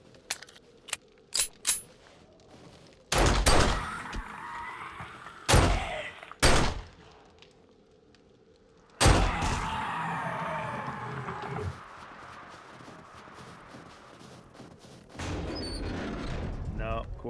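Gunshots ring out in the game 7 Days To Die while enemies are shot, a few sharp, loud cracks spaced apart among quieter clicks and movement, with someone talking at times.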